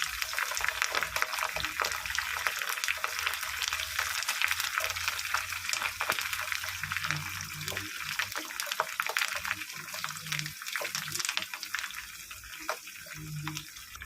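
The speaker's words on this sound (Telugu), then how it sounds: "తాలింపు అయితే చక్కగా అయిపోయింది" Tempering spices with chillies and curry leaves sizzle and crackle steadily in hot oil for pulihora, a continuous bright hiss close up with occasional louder pops.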